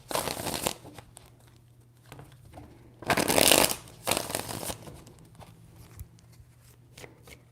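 Tarot cards being shuffled in three distinct bursts of riffling and flicking, close and crisp, with quieter card handling and faint rustling between the bursts and no talking.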